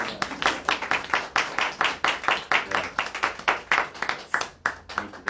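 A small audience at a poetry reading fundraiser claps after a poem, giving a loose, rhythmic run of distinct claps at a moderate level, close by and steady before tapering slightly near the end.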